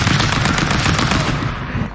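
Rapid automatic gunfire rattles continuously and loudly in the stick-figure brawler Stick Fight, a dense stream of shots that tapers off near the end.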